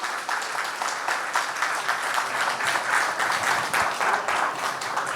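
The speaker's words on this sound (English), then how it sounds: "Let's applause, I think." Steady audience applause fills a talk event on entrepreneurship and philanthropy, a dense wash of many hands clapping at constant loudness throughout, with no speech over it.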